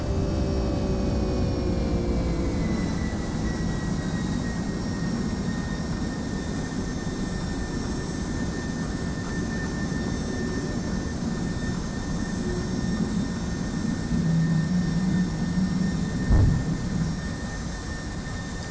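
Steady, broad roar of Boeing 757 jet engines during takeoff climb in the X-Plane simulator, a constant cockpit-level rumble with faint tonal whine and a brief low thump near the end.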